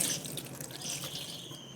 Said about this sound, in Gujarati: હવે થોડુંક પાણી નાખી દઈએ